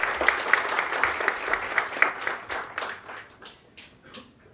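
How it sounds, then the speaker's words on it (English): An audience at a brain health summit keynote claps for a general honoured for leading One Mind, a steady patter of hands that gradually thins and fades out. "let's give the General another round of applause, please"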